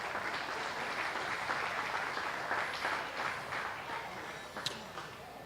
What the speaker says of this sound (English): Let's give them, these exhibitors, a nice round of applause.